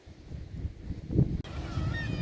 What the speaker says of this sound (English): look at all them nesting birds